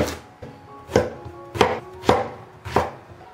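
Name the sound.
knife cutting eggplant into strips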